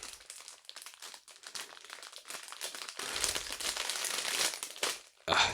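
Plastic packaging inside a Lego Star Wars Duel on Mustafar set crinkles and crackles continuously as it is pulled open, growing louder and denser toward the end, close up with no talking.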